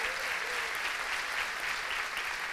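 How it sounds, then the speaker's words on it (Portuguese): A church congregation applauding the Lord, with dense, steady clapping that fills the space, even and sustained throughout, with no voices standing out. "Vamos lá, pode aplaudir o Senhor."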